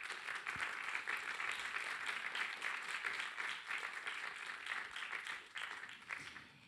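An audience at a professional event gives the speakers a warm, continuous round of clapping, a thick, uniform patter from many hands heard at a modest level from start to finish.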